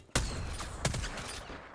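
Gunfire in the battle royale Apex Legends: two sharp shots about 0.7 seconds apart, each followed by ringing echo and scattered fainter cracks, loud and fairly close.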